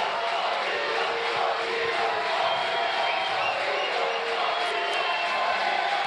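A dense, continuous roar rises from the crowd in an octagon at a CTNV 5 mixed martial arts event in Viamão, Brazil, holding loud and steady between rounds with no breaks.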